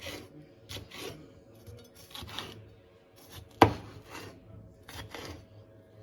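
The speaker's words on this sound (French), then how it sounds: "Tu vas couper comme ça." A knife cuts food on a board, probably green pepper or onion, in rough scraping strokes repeated in short bursts with pauses, and one sharp louder chop partway through.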